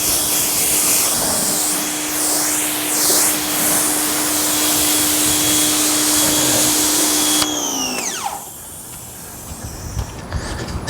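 An Active VE52 electric pressure washer runs with a loud steady motor whine and spray hiss fed through a 1/4-inch 50-foot hose, then shuts off with a falling tone near the end, leaving quieter ambient noise.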